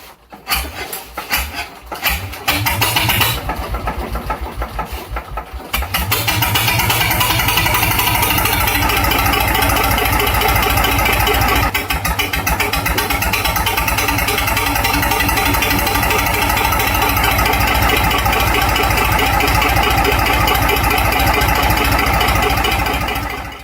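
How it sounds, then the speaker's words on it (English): A rebuilt 1967 Lister JS3 three-cylinder marine diesel with JK3 upgrades, rated at 35 horsepower, cranks over with uneven bursts, then fires and settles into a loud, steady, dense clatter and rumble that runs on alone. "Watch a rebuilt 1967 Lister JS3, a 3-cylinder marine diesel, firing up with JK3 upgrades."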